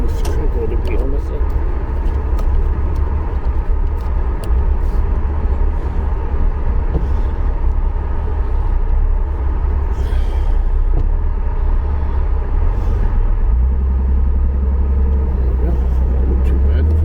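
A Reliant Scimitar with no power steering turning around on the road, its engine giving a steady loud interior rumble that shifts lower near the end, with a voice talking over it.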